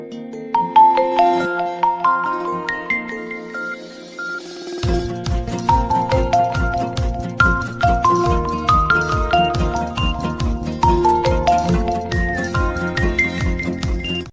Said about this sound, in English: itel sounds burst with joyful chaos